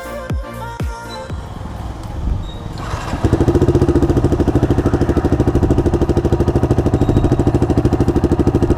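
A Yamaha R15 V2 motorcycle fitted with an Akrapovic full system exhaust, a few sharp blips at first, then the engine settles into a loud, close, rapid and steady idle rumble with a rattling pulse.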